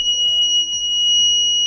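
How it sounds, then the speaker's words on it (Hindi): A homemade reed-switch door security alarm sounds as a gate is opened, a loud, steady high-pitched electronic tone that holds without a break, close to the microphone. "मैं जब भी गेट को खोल रहा हूँ तो ये अलार्म दे रहा है।"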